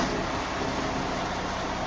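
Truck diesel engine idling just after a safe start during a pre-trip inspection, in neutral with parking brakes set, a steady low rumble that is continuous and close, heard briefly on its own.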